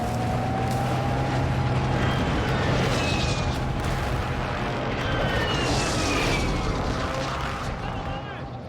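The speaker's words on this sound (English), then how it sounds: "Hostile airstrike near your location." Jet aircraft and distant booms from a hostile airstrike in the Call of Duty Modern Warfare II video game, a steady loud roar with rising whines and rumbling blasts throughout.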